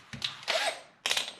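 A power drill boring a small pilot hole into plastic during a Volvo 740 electric fan install, in two short whirring bursts with a brief pause between them, close and clear with no talk.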